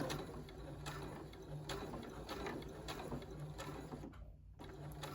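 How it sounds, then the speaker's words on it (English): Regular sewing machine sewing a slow back stitch on a T-shirt neckline, a quiet run of rapid mechanical ticks and clatter with a short pause near the end. "Let's do a back stitch here."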